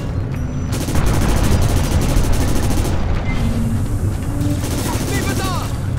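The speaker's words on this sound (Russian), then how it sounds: "Есть другой пулемет." Machine gun fire rattles in the video game Syphon Filter: Logan's Shadow as loud, dense bursts of rapid shots roll on almost nonstop, with booming impacts mixed in.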